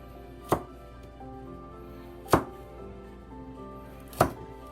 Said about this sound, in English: Okay, we cut the carrots.